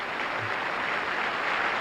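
Broad, even audience applause at a Miss World pageant, a steady wash of distant clapping from a large crowd with almost no talk.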